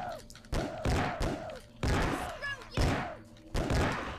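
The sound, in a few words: gunshots in the video game Obscure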